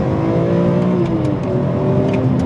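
A BMW E46 M3's inline-six engine revs loudly and steadily, a dense, raucous, throaty drone rising and settling in pitch, close by with no talking.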